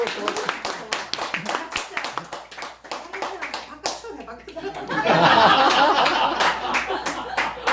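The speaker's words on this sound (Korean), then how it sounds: "박수! 박수!" Audience clapping in congratulation at a local Pohang talk gathering, sharp close hand claps in a quick uneven run, then a louder swell of applause mixed with laughter and chatter.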